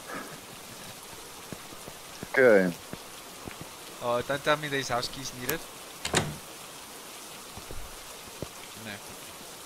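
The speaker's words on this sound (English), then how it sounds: "It's raining." Rain falls steadily at the Willow Street house in the VR game Phasmophobia, a faint, continuous patter beneath a player's occasional talk and a few thuds.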